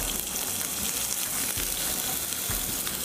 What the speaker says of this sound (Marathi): आणि सोनेरी रंगावर कांदा परतून घेऊ